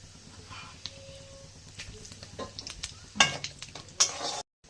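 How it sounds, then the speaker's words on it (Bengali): Black cumin seeds and dried chillies sizzle in hot mustard oil in a kadai. There is a steady, moderate frying hiss, with a few sharp utensil clinks and scrapes toward the end. "একটু কালো জিরে ফোড়নে দিলাম"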